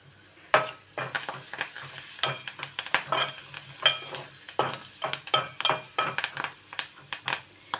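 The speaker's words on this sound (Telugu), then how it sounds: "మీడియం ఫ్లేమ్లో వేయించుకోవాలండి. ఇప్పుడు ఒక రెమ్మ కరివేపాకు వేసుకుందాం." A sprig of curry leaves fries in hot oil over a medium flame, a steady sizzle punctuated by frequent sharp, rhythmic clicks of a spoon stirring against the pan.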